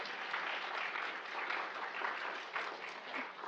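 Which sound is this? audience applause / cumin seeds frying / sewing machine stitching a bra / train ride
audience applause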